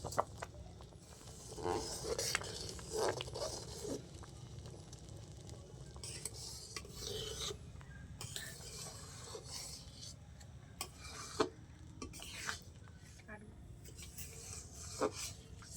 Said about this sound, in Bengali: এবার আমি কেটে রাখা চুষিগুলো এবার দিয়ে দেবো দুধের মধ্যে। অল্প অল্প করে দিতে হবে, নাহলে নিচে দলা পাকিয়ে যাবে সব একসাথে, তাই আমি অল্প অল্প করে দেবো আর নেড়ে দেবো একবার করে।